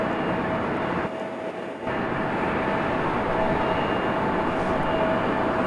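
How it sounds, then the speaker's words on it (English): A United Boeing 737 pushes back at Raleigh-Durham airport, a steady, loud broadband engine and ground roar rumbling continuously with a brief dip partway through, no voices. "our other United 737 is pushing back"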